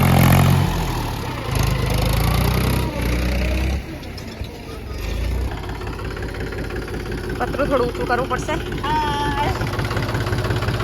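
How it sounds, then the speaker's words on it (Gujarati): A tractor engine idles and chugs steadily in a farm field where wheat is being sown, a constant low mechanical drone under people talking nearby. "કેવી મજા આવે ટ્રેક્ટર ચલાવવાની?"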